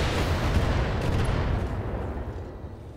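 Heavy weapon fire from mechs in the BattleTech video game, a dense, sustained barrage of low booming rumble that rolls continuously for several seconds with no clear gaps, loud and close.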